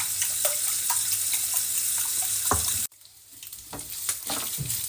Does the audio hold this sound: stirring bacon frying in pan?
yes